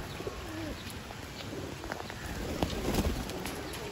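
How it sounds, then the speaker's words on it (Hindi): Soft pigeon cooing with a few faint chirps over a steady outdoor background hiss, fairly distant and low in level. "ये ऊपर आया हुआ है किसी का कबूतर"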